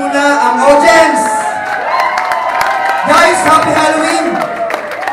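A Halloween crowd at a cowgirls' beer drinking contest in a Baguio bar cheers and whoops loudly while someone speaks over the noise.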